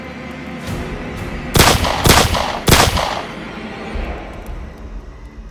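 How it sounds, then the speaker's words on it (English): Three loud gunshots in an action movie, evenly spaced about half a second apart, each a sharp broadband crack over a steady background. "Shoot the motherfucker!"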